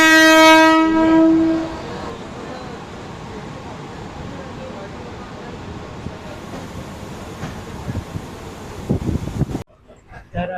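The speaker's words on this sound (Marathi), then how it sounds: "हे बघा कसारा ट्रेन लागली आहे." A Kasara local train on Mumbai's Central line pulls into the station, opening with a loud sustained horn blast, then a long rumbling, clattering run of carriages and a sharp cutoff near the end.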